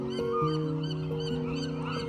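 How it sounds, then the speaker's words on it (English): Seabirds on Alcatraz Island erupt in a sudden burst of loud, chaotic honking calls, several birds overlapping in quick succession close by, with no talking. "there are a lot of birds on the island that create sudden bursts of chaotic sound"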